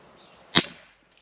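A single sharp pop from an air gun firing a lead pellet at home, loud and close, with a brief decay, against quiet room background.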